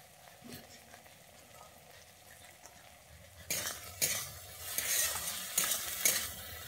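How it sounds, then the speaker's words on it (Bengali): Peas with lemon juice fry for jhal suji, starting as a quiet simmer before a louder sizzle kicks in halfway, with a spatula scraping and stirring the pan in repeated strokes. "এবারে এটাকে আমি একটুক্ষণ কষিয়ে নিচ্ছি।"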